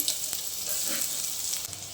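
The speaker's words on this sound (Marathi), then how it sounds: "आता आपण वरणाला फोडणी देऊन घेऊया" Tempering of garlic, cumin and mustard seeds with asafoetida sizzles loudly in hot oil for dal, a steady close crackling hiss that holds for the whole stretch with no talking.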